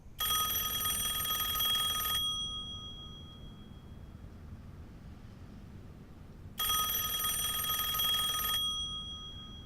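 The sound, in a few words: telephone ringing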